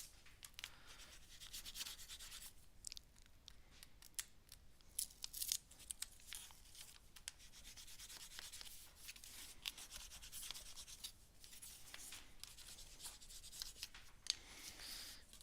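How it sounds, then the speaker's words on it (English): Paper edges being burnished down by hand for a handmade collage book, a steady soft rubbing and scraping with brisk crinkly strokes, close and fairly quiet, with no talking. "I'm just going to burnish that down a little bit"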